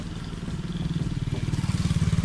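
A Honda Click scooter pulls up close, its mid-pitched engine note growing louder and more pulsing as it arrives, with light clatter over the motor.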